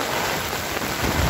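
Steady rain falls during a walk outdoors in a rainstorm, a dense, even hiss of drops close around the listener with a faint low rumble beneath and no voices.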